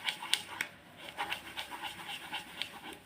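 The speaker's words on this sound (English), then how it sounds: "Quite a big dog." A big dog pants close by in quick, rhythmic breaths, heard alone and fairly loud.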